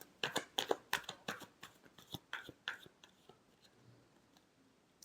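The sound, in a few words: shuffling tarot cards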